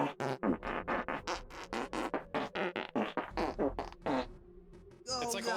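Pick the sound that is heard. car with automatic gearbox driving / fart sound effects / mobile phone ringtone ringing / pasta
fart sound effects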